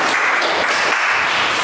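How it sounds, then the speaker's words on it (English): A lecture audience claps together in a short, dense burst of applause that holds steady throughout. "Give yourself a clap."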